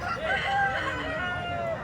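At a Kundarapalli breed chicken farm, roosters crow in long, overlapping calls over a steady background of hens, close and continuous throughout.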